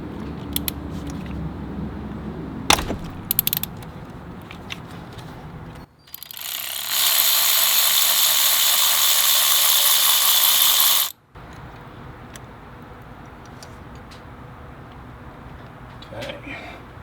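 A ratchet clicks with a 5/8 inch spark plug socket on a Gen 2 Ford Raptor. Sharp ratcheting clicks come near the start, then a long steady whirring burst, and then scattered faint clicks.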